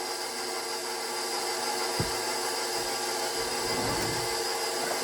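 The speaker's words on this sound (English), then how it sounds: "Let that mix. Get my little mixer." A small electric mixer runs through homemade bread dough made with about five and a half cups of flour, giving a steady, close motor whir with one sharp knock partway through and a slight rise in grinding near the end.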